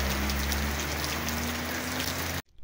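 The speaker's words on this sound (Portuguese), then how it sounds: "A chuva aqui é densa, água na rua por tudo quanto é canto." Heavy rain pours steadily onto a street in João Pessoa, Paraíba, a dense constant hiss close by with a low hum underneath, cutting off abruptly at the end.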